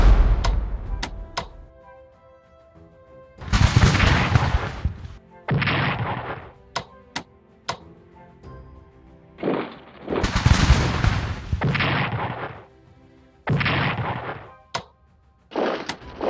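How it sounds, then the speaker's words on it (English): Artillery and musket fire in the computer strategy game Strategic Command American Civil War, a series of loud booming volleys with rumbling tails, separated by sharp single clicks, close and without talking. "let's fire with these artillerists on them"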